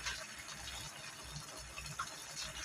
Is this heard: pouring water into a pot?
yes